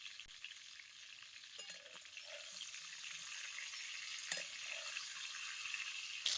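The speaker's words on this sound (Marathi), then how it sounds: "आता हे टमाटो कशी तेलात चांगली भाजले बघा" Raw green tomatoes roasting in oil over a wood stove, a soft continuous crackling sizzle with a few sharp pops and light stirring knocks, fairly faint and close.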